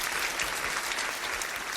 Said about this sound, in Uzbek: Guldiroz qarsaklaringiz